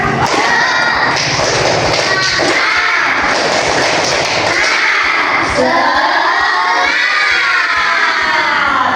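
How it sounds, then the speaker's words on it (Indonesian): A group of children shout and cheer loudly together in a rhythmic spirit clapping chant, with claps and thumps mixed into the boisterous crowd noise that runs throughout. "Semangat, tepuk semangatnya dulu supaya kita nggak ngantuk dulu."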